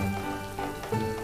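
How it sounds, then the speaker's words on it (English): Steady patter of water sprayed from a hose like rainfall, a continuous close hiss of droplets striking leaves and surfaces with no voices, in a zoo chameleon enclosure. "In the zoo, they try to replicate that with a hose."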